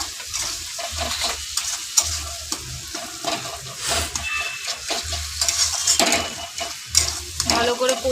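Masala of cumin paste and chilli powder frying in oil, stirred repeatedly with a spatula, rhythmic scraping strokes over a continuous crackling sizzle with occasional clinks on the pan, close and fairly loud.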